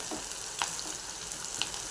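Onion fries in hot oil with a soft continuous sizzle, a couple of brief clicks of stirring, fairly quiet and close, with nobody talking.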